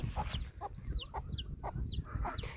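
Chickens and a broody hen with her chicks cluck in a coop, repeated soft clucks over a busy low background of scratching and movement, with high thin peeps recurring throughout.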